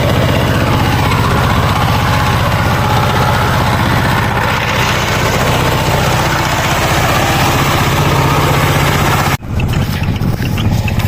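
A power tiller engine runs steadily and loudly in a farm field in Bangladesh, a constant close chugging drone with a brief dip near the end.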